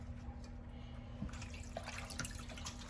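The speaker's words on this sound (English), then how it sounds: "Then I'll rinse them in my strainer a little." Stinging nettles rinsed in a strainer under running water, with a soft steady trickle and occasional small splashes and drips, quiet and continuous over a low background hum.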